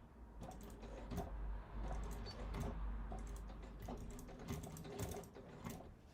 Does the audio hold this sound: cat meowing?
no